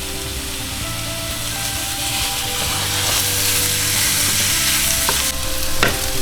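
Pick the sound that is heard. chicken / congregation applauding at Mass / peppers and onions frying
peppers and onions frying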